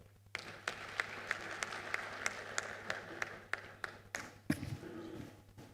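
An audience at a national performance review conference in Uganda applauds, a steady wash of hand claps with regular louder accents, trailing off near the end into a brief murmur of voices.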